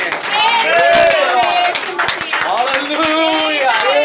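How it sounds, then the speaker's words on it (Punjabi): A church congregation at worship claps in a steady rhythm, sharp repeated claps sounding up close beneath singing voices. "ਤਾਲੀਆਂ ਖੁਸ਼ ਕਰਦੀਆਂ ਨੇ"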